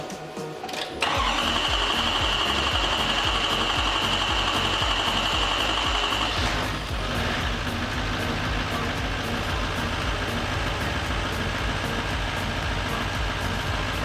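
A Chevrolet pickup engine cranks briefly and catches after its engine-bay parts were reinstalled, then settles into a steady, close, continuous idle with a faint high whine, with no voices.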